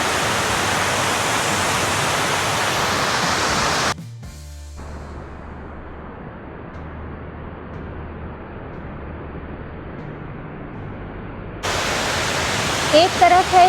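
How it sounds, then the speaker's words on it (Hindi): A fast-flowing waterfall on a model of Niagara Falls roars as steady broadband rushing, drops away briefly to a quieter wash, then surges back, with voices over it near the end. "एक तरफ है ये तेज बहता हुआ वाटरफॉल"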